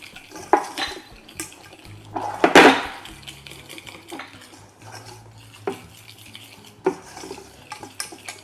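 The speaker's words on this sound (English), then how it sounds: "And then you whisk it up." Cacao powder and vanilla bean whisked together in a bowl for homemade chocolate, giving soft scraping stirs and clinks of utensil against the dish, with one louder clatter in the middle; no talking.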